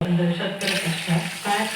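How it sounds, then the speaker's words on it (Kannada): Water poured from a glass into a pot of soaked broken rice for wheat mudde, a short splashing pour with a voice faintly audible underneath. "ಆಮೇಲೆ ಈ ಲೋಟದಲ್ಲಿ 2 ನೀರು ಹಾಕ್ತಾ ಇದ್ದೀನಿ."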